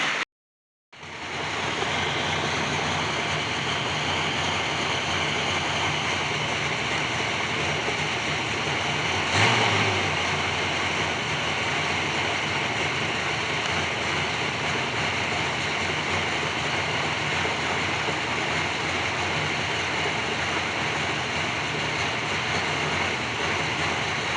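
The LS-swapped C3 Corvette idles with a steady, loud, unbroken drone that stays even throughout and has a brief bump partway through.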